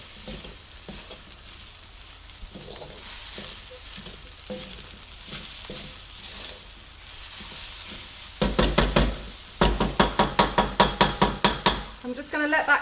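A spoon stirs soy sauce through egg fried rice in a hot pan, scraping and knocking in uneven strokes under a steady sizzle, then turning into a fast run of loud rhythmic clacks near the end; no talk.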